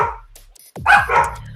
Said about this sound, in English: They're loud dogs.